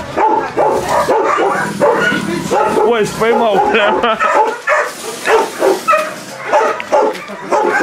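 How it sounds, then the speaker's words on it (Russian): Several dogs at the Nika shelter for homeless animals yip and bark in quick bursts close by, mixed with whimpers, while someone talks over them. "Тихо, не кричите, собачки"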